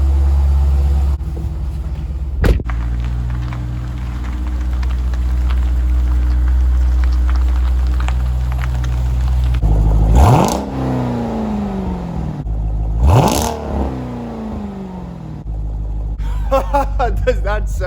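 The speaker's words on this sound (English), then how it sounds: "So not only does this exhaust sound super good" A Jeep Grand Cherokee SRT with an aftermarket exhaust idles in a deep, steady rumble, then two sharp revs rise and fall back, followed by a crackle. The sound is loud and close.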